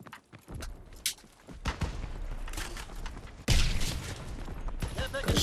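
Call of Duty WW2 gunfire crackles in irregular bursts of sharp shots and booms with bursts of combat noise, growing louder and denser toward the end, mixed with game effects.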